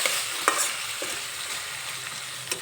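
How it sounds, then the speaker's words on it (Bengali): Kakrol (spiny gourd) mixed with egg is stirred in a frying pan, a steady sizzle with a few soft scraping knocks of the spatula against the pan, no voices. "এখন একটু নেড়ে চেড়ে নেব।"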